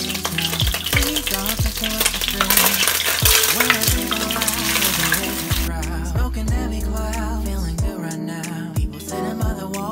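Onions frying in a hot pan for sautéed mushrooms, a loud continuous sizzle with intermittent stirring scrapes, while a song with singing plays in the background.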